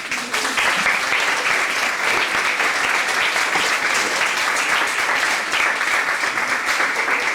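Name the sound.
audience applause at summer institute ceremony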